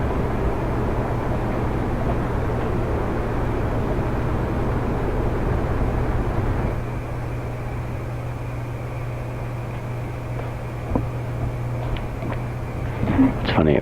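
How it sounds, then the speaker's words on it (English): A droning sound effect on a Raspberry Pi livestream hums steadily with a low tonal buzz and airy noise, then drops noticeably quieter about halfway through, followed by faint scattered clicks near the end. "I'm going to turn down the drone sound a bit"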